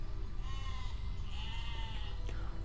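A sheep bleats in the Besiege video game, a few wavering cries rising over steady loud low rumbling game noise, with no talking.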